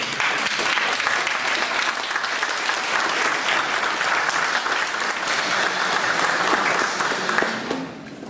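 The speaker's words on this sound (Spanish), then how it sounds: "para quien pido nuevamente un fuerte aplauso" Audience applauding a doctor after his lecture, sustained full clapping from a sizable crowd that carries on steadily for several seconds before tapering off at the end.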